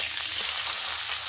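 Chopped onion hits hot oil in a pan, a brief, even hissing sizzle up close and alone.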